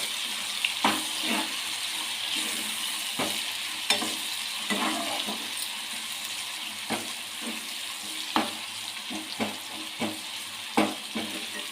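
Tomato rice with turmeric is stirred in a pan, a spoon scraping and clacking in irregular strokes over a soft continuous sizzle, close and moderately loud with no talking.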